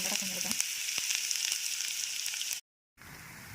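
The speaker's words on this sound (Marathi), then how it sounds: "नंतर त्यामध्ये कांदा टाकून घ्यायचा" Onion fries in hot oil tempered with cumin, giving a steady close sizzle with a few light clicks, then a brief drop to silence before a quieter hiss resumes.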